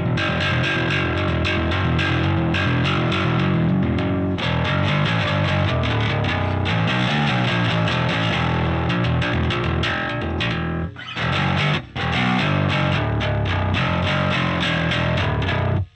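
Bass guitar driven through a Softube Marshall distortion plugin with less low end and boosted upper frequencies, a loud, continuous gritty tone with steady played notes and a brief dip near the end.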